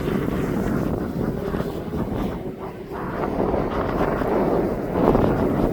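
An aircraft taxiing at East Midlands Airport makes a steady low engine rumble and whine, mixed with gusty wind buffeting the microphone, fairly loud and continuous with no speech.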